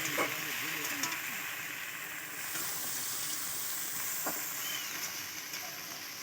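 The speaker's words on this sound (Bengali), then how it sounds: "সবজিগুলো দিয়ে একটু ভেজে নেব।" Cut vegetables fry in a pan for a drumstick fish curry, giving a loud, continuous close sizzle with occasional stir scrapes and crackles, a steady bright hiss throughout and no voices.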